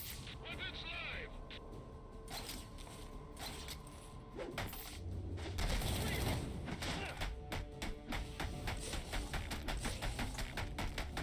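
Gunfire in a Batman video game, dense bursts of shots and mechanical clatter building through the second half, loud and continuous over game music and effects, with a voice talking in places.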